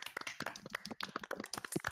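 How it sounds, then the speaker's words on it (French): Applause at the close of an award ceremony: a small group claps in sharp, uneven bursts for two seconds, fairly faint and close, with no talk over it. "Applaudissez-vous tous."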